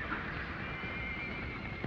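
A wild horse gives a thin, drawn-out neigh over a hissy, muffled outdoor background from an old film soundtrack, with no one speaking.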